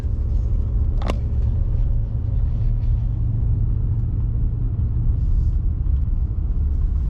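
A car creeps along a winding mountain road at about 20 miles an hour in blustery weather, with a loud, steady low road rumble and wind noise throughout and a single sharp click near the start.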